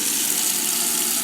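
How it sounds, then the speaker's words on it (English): Water runs steadily from a pot filler kitchen sink faucet in a house in Arizona, giving a continuous, close, even rushing hiss with no talking. "Turn the water on."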